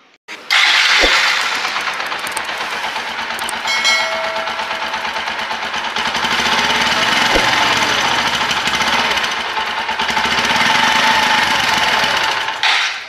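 Exhaust of a 2023 Bajaj CT 110X E20 OBD-2 motorcycle, a loud, steady close-up drone with a slight rise and fall in revs that runs nearly the whole time, with no talk.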